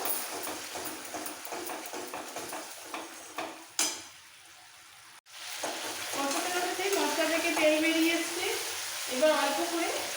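Ground green chilli paste for a small carp fish curry fries and is stirred in a pan, a loud continuous sizzle with scraping and clatter that drops briefly before resuming.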